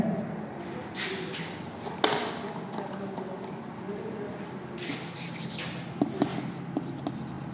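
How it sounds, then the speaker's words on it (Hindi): Marker or chalk writing on a board during a maths class on trigonometric functions, a continuous scratchy scribbling with a few sharp taps, close and moderately loud. "मैं इसको लिख रहा हूँ"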